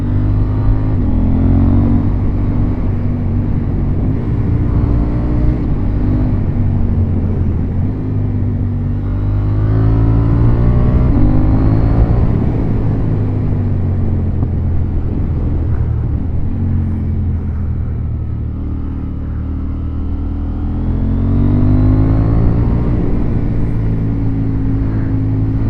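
A KTM 890 Duke motorcycle on the road, its engine roaring loud and close with repeated rising and falling revs through gear changes and a deep rumbling throb, continuous and without talk.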